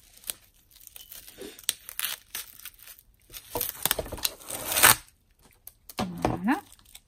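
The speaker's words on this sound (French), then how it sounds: "je vais le couper avec des ciseaux" Scissors snipping and cutting through material while making enamel dots, a few short crisp cuts with rustling and crinkling, close and fairly quiet, with some handling noise.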